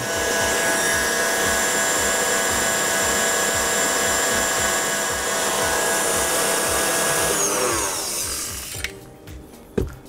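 Electric mixer whirring steadily at top speed while beating homemade plain buttercream for a Russian cake, a loud continuous motor drone that cuts off near the end, leaving a few clatters.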